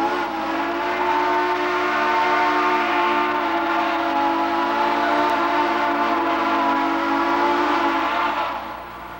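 Ex-Chesapeake and Ohio locomotive number 2716, running on the Southern Railway in 1982, sounds a long, loud, steady whistle that holds for several seconds before trailing off.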